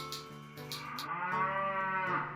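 A cow moos in a student film scene, a drawn-out, resonant low call that rises and holds for about two seconds, close and clear with no talking.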